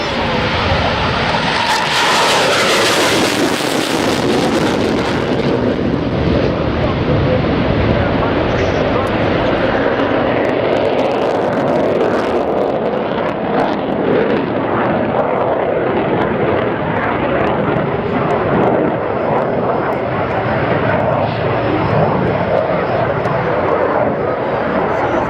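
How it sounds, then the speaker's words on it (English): Aircraft on its takeoff run at the RIAT 2014 airshow: loud, sustained engine roar close by, swelling early and then holding steady, with an announcer talking over it. "Here is the takeoff run, and in a second, the rotation of the"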